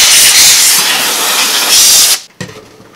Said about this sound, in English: I'm just going to hit this with a little bit of compressed air.